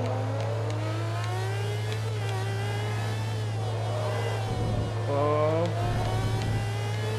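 Ferrari engine revving in the Forza Motorsport 2 racing game, a steady drone with shifting pitch that rises into louder bursts near the end, under brief exclamations.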